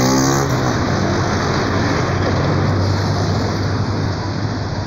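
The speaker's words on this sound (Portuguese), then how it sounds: "Agora vou gravar um pouco do trânsito aqui da cidade de Joinville" A loud, steady wash of city street traffic in Joinville, Brazil, with nearby cars passing close by and engine noise filling the scene throughout.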